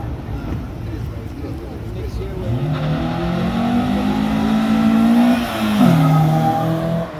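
A car engine revs hard at an outdoor car meet, with a GTI mentioned, its note climbing and sweeping in pitch over several seconds and staying loud and close throughout, while voices carry on in the background.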